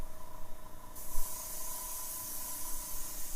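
An airbrush sprays primer onto a Hot Wheels die-cast car at low pressure, a soft airy hiss that swells into a steady, louder spray partway through and continues to the end.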